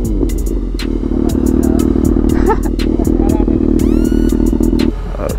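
A 2022 Kawasaki ZX6R idles while warming up, giving a close, continuous throbbing engine drone with light mechanical ticks and clatter, and a brief faint voice in the background.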